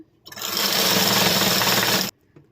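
An electric sewing machine runs one steady, loud burst of about two seconds, stitching across the end of a small cloth piece, then stops abruptly with a faint click after.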